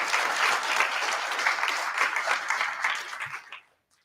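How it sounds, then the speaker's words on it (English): Audience applause at a high school academic and sports awards ceremony, steady dense clapping from a hall full of people that holds for over three seconds, then quickly fades out into silence. "give them a round of applause as well"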